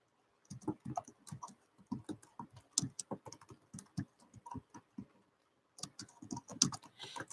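Close, fast typing on a computer keyboard, bursts of light clicking keystrokes with a short pause partway through, no talking.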